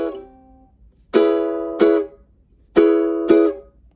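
Ukulele bar chord strummed in two pairs of quick down-up strokes, each chord cut short as finger pressure on the bar is released, after a single ringing chord at the start.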